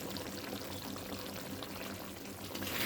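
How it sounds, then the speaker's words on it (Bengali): Raw mustard oil poured over cooked boroli fish simmering in a poppy-seed gravy, a steady close liquid pour and sizzle, continuous and fairly loud throughout with no talking. "কাঁচা সর্ষের তেল দিয়ে দিচ্ছি।"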